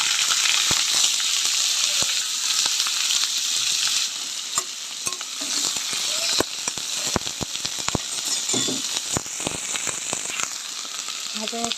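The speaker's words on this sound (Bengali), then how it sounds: "তেলটা গরম হয়ে গেছে, এখন উস্তে আলুটা ভেজে নেব" Bitter gourd and potato fry in hot oil in a kadai, a loud continuous sizzle with scattered clicks and scraping stirs throughout, no voices.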